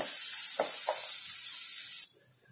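Onion and ginger sautéing in a pan for rava upma, giving a loud, even sizzling hiss with a couple of brief stirring scrapes before it abruptly drops away.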